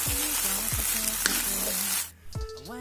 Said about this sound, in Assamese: ভেজিটেবলছখিনি দি দিলোঁ, দিয়াৰ পিছত এনেকৈ 5 মিনিটমান এনেকৈ লৰাই মেলি কৰি থ'ম